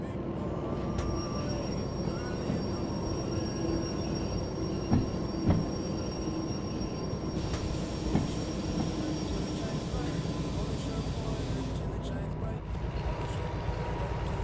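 A locomotive and its railcars rumble steadily in a train driving video game, a continuous low mechanical drone with faint tonal whines and a few soft clunks, heard without any voices.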